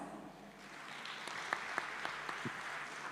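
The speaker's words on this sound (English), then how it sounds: "Can we hear a round of applause?" Conference audience applause in a hall at an energy technology meeting, a faint, distant patter of clapping with a few sharper isolated claps standing out near the end.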